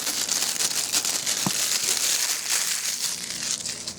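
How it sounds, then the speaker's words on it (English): Crinkly plastic wrap is peeled off a Japanese manga book. The crackle is close, soft and continuous, with a small sharp tick partway through and no talking. "I think it might have the crinkly sound"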